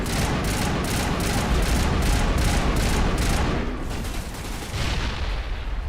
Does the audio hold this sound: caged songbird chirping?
no